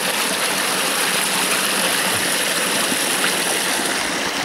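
A small waterfall in a Siberian taiga stream, water tumbling under a tree in a steady, close rushing hiss that stays loud and unbroken throughout with no voices.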